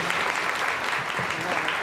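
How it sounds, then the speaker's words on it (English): Audience at a St. Louis empowerment panel discussion applauding, a dense steady wash of clapping from a crowd heard continuously throughout. "Can we get a round of applause?"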